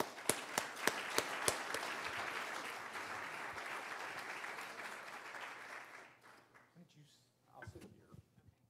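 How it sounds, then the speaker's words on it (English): An audience at a cybersecurity conference for lawyers applauds a panel, opening with a few sharp claps and swelling into a broad round of clapping that fades out after about six seconds before a voice starts speaking. "I'll give them a round of applause."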